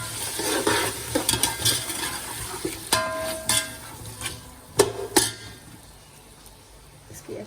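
Beef frying in a pot while being stirred and browned for pulao, with intermittent scraping and clinks of a metal spoon against the pot over a soft sizzle, close and moderately loud.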